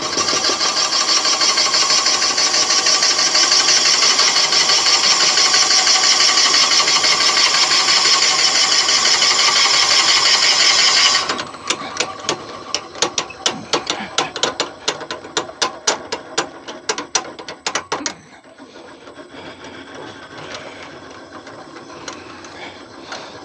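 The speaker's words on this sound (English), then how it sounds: "The belt starts to slip when you do that." A wood lathe spinning too fast while drilling, its drive belt slipping: a loud steady whirring whine that abruptly cuts out, followed by irregular clattering knocks and a quieter hum.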